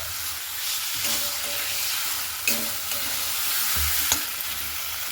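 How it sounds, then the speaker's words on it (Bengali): Spice paste for a fish curry sautés in a pan with a continuous close sizzle and hiss, marked by occasional scraping and clinking of a spoon as the masala is stirred. "মশলাটাকে একটু ভালো মতো করে কষিয়ে নিতে হবে"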